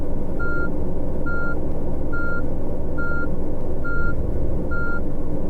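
A tourist bus in Tourist Bus Simulator sounds its reversing alarm: six evenly spaced loud beeps over a steady engine drone, with no talking.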